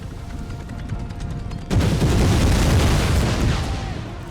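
Grenadiers' grenades bursting on a battlefield in Empire Total War, a sudden loud blast midway followed by rolling rumble and crackling musket fire, the earlier part a softer din of battle, no speech.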